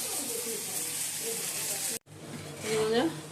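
Onions and tomatoes sizzle in hot oil in a wok, a steady near hiss broken by a short cut, then frying resumes with a faint voice or bird-like chirp over it.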